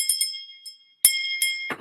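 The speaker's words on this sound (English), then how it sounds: "but I do have a crystal bell." A small crystal bell rings several times close by, each bright, glassy strike decaying briefly before the next, followed by a short rustle.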